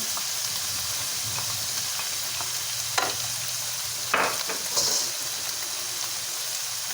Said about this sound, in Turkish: biberlerini ekleyip biraz da bunlar solana kadar kavuruyoruz.